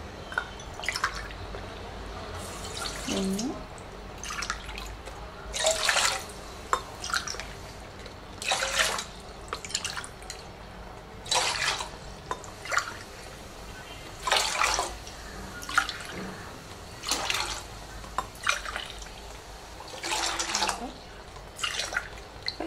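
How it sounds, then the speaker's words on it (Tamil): Water poured from a tumbler into a cooking pan while making rava pongal, seven tumblers in all, heard as repeated short splashing pours spaced a few seconds apart, fairly close, with quiet gaps and no talk. "ஸோ அதனால் 7 டம்ளர் வந்து தண்ணி ஊற்றுறோம்."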